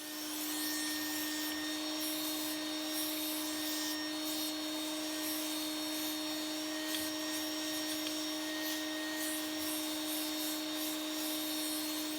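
A vacuum cleaner fitted with a brush attachment cleans the cabinet and crevices of a 1949 DuMont 15-inch television, a steady close motor whine running unbroken throughout with faint scrubbing and rubbing over it and no talk.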